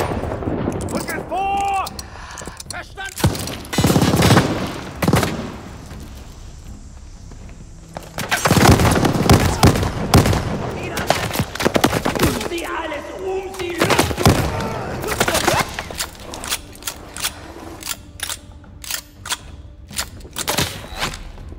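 Sniper and rifle fire in Call of Duty: Vanguard, Lady Nightingale mission: repeated loud, sharp shots at irregular intervals with booming impacts and footsteps, under a player's talk.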